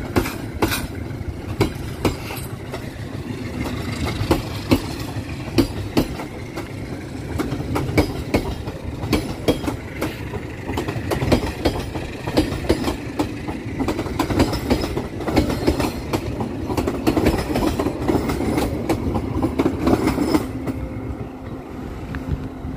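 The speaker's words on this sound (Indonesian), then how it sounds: "Kereta api komuter line Garut saat ini sudah berangkat dari stasiun Haur Bogor" A Garut commuter line train departs Haurpugur station, wheels clicking and clacking over rail joints with a rumbling engine beneath, loud and continuous before easing slightly at the end.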